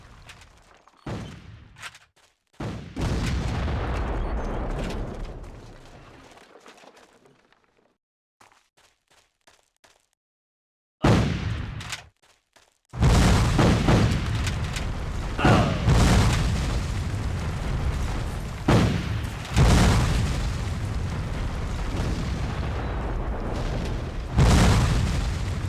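Explosions in a Civil War video game boom repeatedly, heavy blasts and bursts of gunfire in clusters, with brief quiet gaps before another series of loud detonations rolls in.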